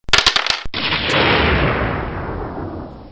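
A lightning cannon blast in a RIFTS tabletop session: a rapid burst of loud cracking shots, then a heavy booming blast that rumbles and slowly fades over about two seconds.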